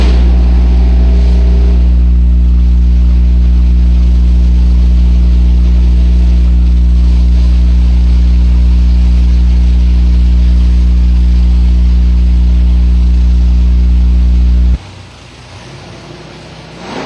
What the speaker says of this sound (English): The turbocharged Mustang Precision 88mm X275 Spec Turbo